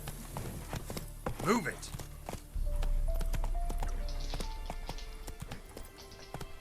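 Hooves of the horse Roach clip-clop in The Witcher 3 video game, a quick run of hoofbeats near the start under a short shouted line, then the steps fade into ambient game sound and music tones.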